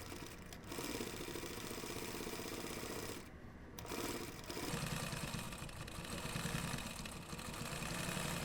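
A sewing machine stitches pockets onto a road trip bag, a fast steady mechanical whir that runs in bursts with brief pauses between them, close and continuous.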